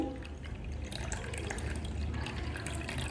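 Water drained from churned cream splashes and trickles steadily into an empty vessel, a close, continuous liquid sound with small drips and gurgles.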